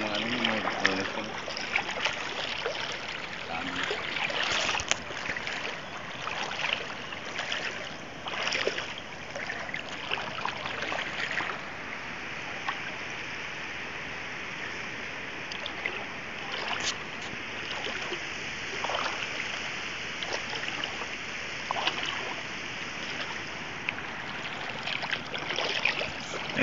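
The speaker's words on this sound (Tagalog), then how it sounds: "Lakas ng alon." Strong sea waves surge and wash nonstop at close range near small boats, a steady broad rushing roar with occasional splashes, while voices talk intermittently over it.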